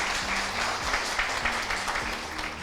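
An audience claps together in a hall after a talk, a fairly soft, even round of applause lasting a few seconds.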